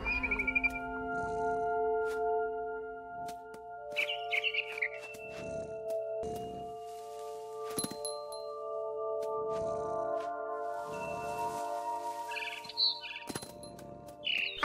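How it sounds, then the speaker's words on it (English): Barn swallow chirping in What Remains of Edith Finch, a few brief bright twittering calls scattered over a quiet nighttime ambience with steady low tones and occasional soft rustles. "It was a barn swallow going back to her nest."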